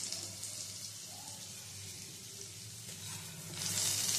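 Taro pieces fry in hot oil in a pan, a faint steady sizzle throughout that swells louder near the end, with a light stirring scrape now and then.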